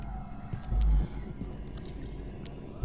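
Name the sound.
eating a donut, chewing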